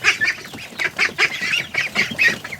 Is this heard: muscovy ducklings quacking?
yes